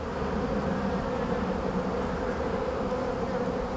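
Honey bees buzz steadily around a hive frame where a newly marked queen walks, a close, continuous drone with no voices.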